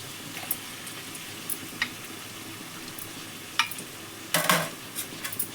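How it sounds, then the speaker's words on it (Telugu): Chicken fries with browned onions in a pan for an Andhra-style chicken fry curry: a soft continuous sizzle broken by several sharp spoon scrapes and clinks as it is stirred, close up and without speech. "ఇప్పుడు చికెన్ వేసేసుకోండి."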